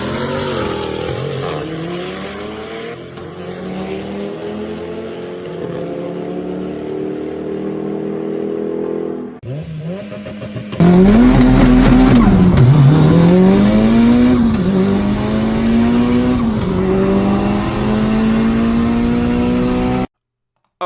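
A 600-plus wheel horsepower Mitsubishi Evo roll racing against a muscle car, with engines droning and then surging into loud, rising revs and gear-shift sweeps up close, continuing at full roar before cutting off abruptly.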